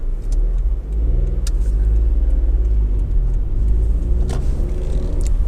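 Toyota Yaris 1.0 VVT-i T Spirit hatchback pulling out onto a main road, its small engine humming steadily with a low rumble from inside the cabin, close and continuous.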